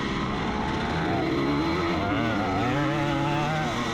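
A Husqvarna dirt bike races along a farm track at a memorial event, its engine note rising and wavering steadily at close range, loud and continuous with no talking.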